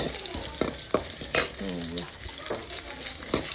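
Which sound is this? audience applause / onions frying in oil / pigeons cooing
onions frying in oil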